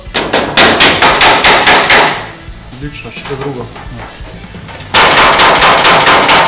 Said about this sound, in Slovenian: Udaraš s tem delom kladva, ne s tem.